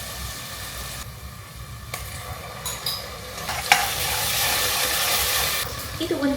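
Garlic and ginger paste frying in a pan for a red rice khichdi: steady sizzling and hissing with occasional scraping stirs, rising louder midway, close up, with no talking over it.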